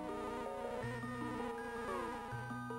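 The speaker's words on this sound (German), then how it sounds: "Du hast eine Biene gefangen." A golden bee buzzes after being caught in Zelda: A Link to the Past, a steady synthesized tone under layered chiptune music, continuous and moderately loud throughout.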